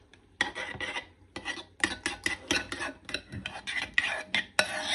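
Sour cream and egg yolk being stirred together in a bowl, a series of soft, close scraping and rubbing strokes with brief pauses between them.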